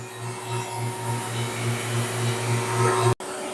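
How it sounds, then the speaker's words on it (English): A vacuum pump draws down the AC system on a 2011 Ford F-150 after a condenser replacement, a steady loud droning hum with a pulsing throb that cuts out abruptly near the end. "I'm evacuating the system, drawing it down to a vacuum."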